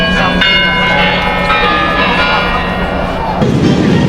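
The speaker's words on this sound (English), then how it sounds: "the sound of its chime is instantly recognizable to every Russian" Kremlin clock chimes ringing out over Red Square in Moscow, bell tones sustained over a constant outdoor crowd murmur, with a louder burst of crowd noise near the end.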